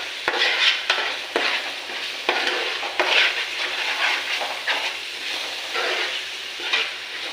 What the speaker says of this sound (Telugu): అల్లం వెల్లుల్లిపాయ పేస్ట్ వేస్తే అడుగు అంటుద్దండి, తిప్పుకుంటూ ఉండాలి.